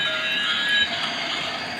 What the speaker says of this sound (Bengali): এই যে হনুমানজিকে নিয়েও ট্রেন যাচ্ছে দেখো বন্ধুরা